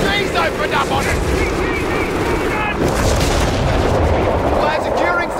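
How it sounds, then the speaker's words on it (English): Battle din in the Company of Heroes 3 war game, with machine gun bursts among booming artillery and gunfire, steady and loud throughout, layered with radio chatter from the troops. "MG's opened up on us."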